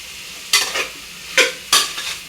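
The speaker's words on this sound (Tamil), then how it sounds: "காய் வேகிற வரைக்கும் வதக்கி விடணும்" Vegetables and tomato sautéed in a pan for vegetable biryani, three close bursts of stirring and sizzling over a quieter steady fry, with no voices.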